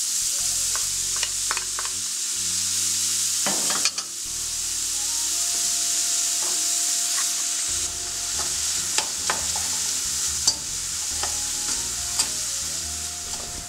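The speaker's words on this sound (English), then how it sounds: "want to cook up the onions and the garlic and the sage and get those nice and golden brown too." Onions, garlic and sage fry in a pan with a continuous bright sizzle, broken by scraping stirs and a few sharp clicks of the utensil against the pan.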